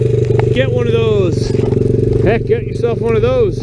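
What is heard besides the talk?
Honda XR 100 dirt bike engine idling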